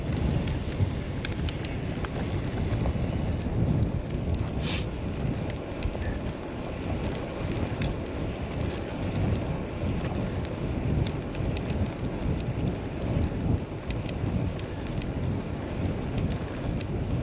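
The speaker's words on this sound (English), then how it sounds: "It's nice and windy." Strong wind buffets the microphone while cycling the Wandle Trail, a constant low roar, rumbling and gusting for the whole stretch without letting up.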